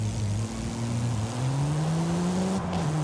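Porsche engine and exhaust in Forza Horizon 5 gameplay, a steady droning note that climbs gradually in pitch as the car accelerates, with a brief tire-squeal-like rasp near the end, loud and continuous with no talking.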